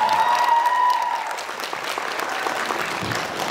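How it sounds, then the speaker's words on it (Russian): An audience at an anime festival opening gives a burst of warm applause for the departing jury, loud at first and then settling into steady clapping, with a brief tone fading early. "Самыми горячими и громкими аплодисментами проводим наших дорогих жюри."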